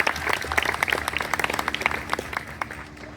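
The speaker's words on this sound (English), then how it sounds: "Now please join me in a huge round of applause for everyone who supported you on this journey." An audience at a university statistics and data science commencement gives a round of applause, dense and fairly close, with a few louder whoops over the clapping, fading toward the end.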